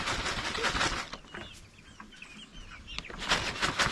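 Backyard chickens, a Puerto Rican flock, cluck and squawk eagerly over mealworm treats, close and lively, with fluttering and busy rustling throughout.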